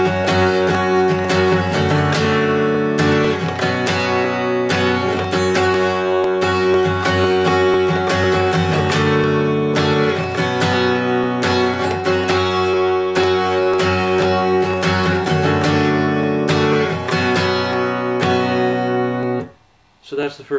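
Acoustic guitar strumming the chord progression of a song, full steady chords ringing continuously for about twenty seconds, loud and close, with no talking, ending in a brief pause and a last strum.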